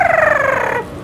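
A bird in a children's first-grade Spanish lesson cartoon lets out a loud, quick turkey-like gobble, a rapid rattling warble sliding slightly downward for under a second before cutting off.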